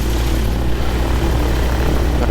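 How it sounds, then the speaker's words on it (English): A microlight aircraft taxis along a runway toward takeoff, its engine giving a loud, constant droning buzz that fills the whole stretch without pause. "I'll catch you as I'm taxiing along the runway"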